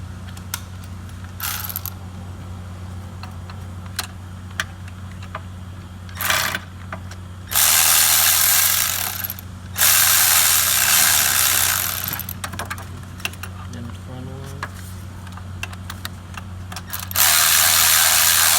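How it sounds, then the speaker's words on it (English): A ratchet working on bolts in an Acura TL engine bay during timing belt removal gives loud, close, rapid clicking in several long bursts, with a steady hum beneath. "use the ratchet, drive it out"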